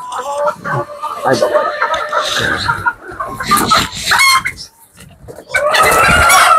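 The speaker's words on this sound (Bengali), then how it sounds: "এগুলো হচ্ছে ব্যান্থাম।" Small bantam chickens on a farm cluck and squawk in bursts close by, several birds calling over one another, with people talking amid the calls.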